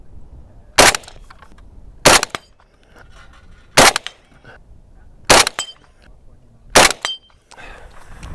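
Five loud, sharp rifle shots from a Palmetto State Armory Voodoo AK-47 ring out one at a time, spaced about a second and a half apart, with quiet handling noise and faint talk between them.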